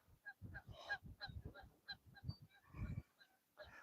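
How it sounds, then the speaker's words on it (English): Geese honk repeatedly outdoors at a fishing spot where seagulls are also present, with a quick irregular series of faint calls overlapping one another at a distance. "We got seagulls, we got geese."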